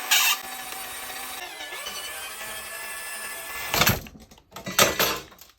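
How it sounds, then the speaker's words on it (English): A power drill bores out part of a Lian Li O11 Dynamic PC case, a steady harsh whine running for several seconds before cutting off, followed by a few loud clanks and knocks of handling. "So now, let's go ahead and drill that last one out."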